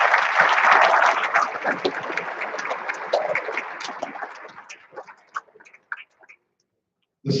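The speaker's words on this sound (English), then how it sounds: "Round of applause for our city and parish winners." An audience at a school awards convocation claps for city and parish award winners. The loud, full applause thins out over several seconds into a few scattered claps and then silence, with one brief burst at the very end.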